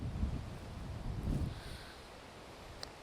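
Wind gusts across a golf course, buffeting the microphone with low rumbling bursts that fade after a couple of seconds, followed by a brief faint click.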